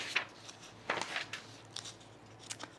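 Scissors snip through fabric while cutting pieces for men's cargo shorts, a series of quiet, crisp cuts spaced irregularly across a few seconds.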